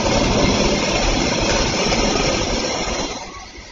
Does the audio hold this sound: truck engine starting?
yes